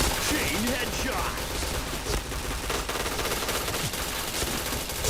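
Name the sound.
gunfire in a shooter video game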